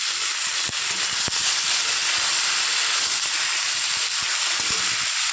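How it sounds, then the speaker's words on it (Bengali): Onion and beans frying in oil hiss steadily with a bright, dense sizzle and scattered crackles and pops, close and constant throughout. "এর মধ্যে দিয়ে দেবো আমি পেঁয়াজ তেলে আর সিম দিয়ে একইভাবে ভেজে নেব"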